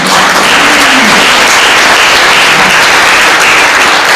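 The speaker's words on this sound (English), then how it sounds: "Please give me a round of applause." Loud, dense applause from a university audience at a Peace Corps anniversary celebration, a steady roar of many clapping hands sustained evenly throughout.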